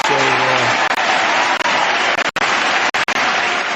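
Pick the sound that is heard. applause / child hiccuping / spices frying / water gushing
applause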